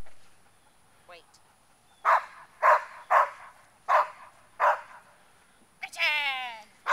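Dog barking in a series of about six sharp, evenly spaced barks up close, followed by a whiny yelp, with brief bits of a handler's voice.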